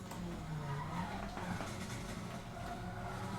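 Race cars pass at speed, Mazdas and Datsuns on a track in a budget-car race, a continuous loud engine roar and tyre noise that sweeps past close by with no let-up.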